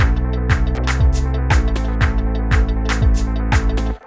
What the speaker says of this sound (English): So the bass comes from GMS.